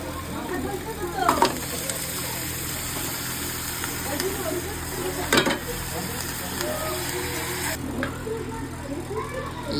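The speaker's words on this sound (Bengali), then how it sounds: "মশলাটি একটু ভালো করে ভেজে নিয়ে তারপরে আমি কাঁচা মাংসগুলো দিয়ে দেবো, দিয়ে কিছুক্ষণ এটা দিয়ে কষাবো।" Chicken pieces sizzling in spiced masala in a pan for a Bengali-style chicken and potato curry, a steady close hiss with occasional sharper crackles and stirring knocks throughout.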